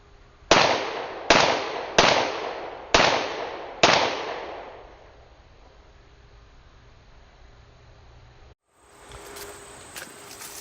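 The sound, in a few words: five pistol shots, Glock 17 in CAA MCK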